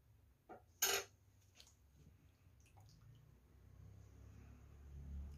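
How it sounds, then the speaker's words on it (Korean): A spoon stirs a Korean seasoning sauce for bibimbap in a bowl, clinking a couple of times near the start before settling into a quiet, low background hum. "이렇게 하고 저어주세요."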